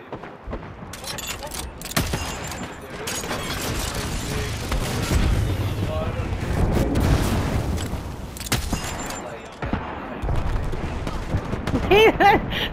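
Video-game gunfire from several enemies shooting at a player, dense bursts of shots and booms filling the whole stretch, with faint voices underneath.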